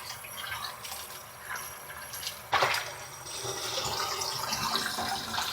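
Raw chicken pieces are rinsed under running water in a kitchen, with a steady soft gush of water, splashing and a brief sharper splash partway through.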